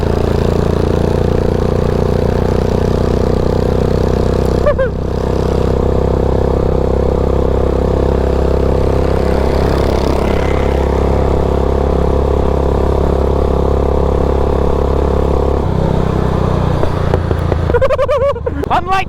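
A modified riding lawn mower engine runs loud and steady, revved toward 7,000 RPM through a 5-inch engine pulley and 2-inch transaxle pulley, with a brief dip near the middle and a clattering change at the end.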